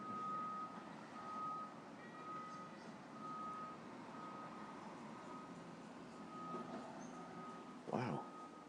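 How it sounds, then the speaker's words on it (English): A vehicle backing up sends out evenly repeated reversing beeps over a busy outdoor background with a truck engine rumbling. The beeps are moderately distant and fairly faint, and one louder thump comes near the end. "Car backing up."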